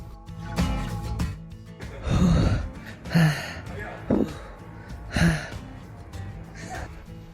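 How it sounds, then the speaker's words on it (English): A distressed child gasps for breath in several sharp, ragged intakes, close and fairly loud, with breathy strained sounds between them and no clear speech. "suddenly experienced shortness of breath"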